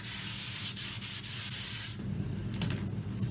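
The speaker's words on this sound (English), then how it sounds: "So to help with the adhesion to the surface, then just simply roughen that top surface with 150 grit" Continuous rough scratching of 150 grit sandpaper roughening the top surface of a Mirostone panel, steady close strokes with brief dips in rhythm, then a shorter, coarser rubbing pattern, without talk.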